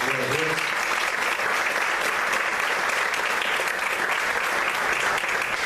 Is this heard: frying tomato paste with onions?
no